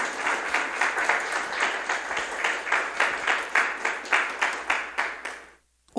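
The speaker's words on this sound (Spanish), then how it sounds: "Aplaudámosle al Señor con alegría," A church congregation applauding with joy during a sermon, many hands clapping together in a steady rhythmic beat that fills the room for several seconds before stopping abruptly.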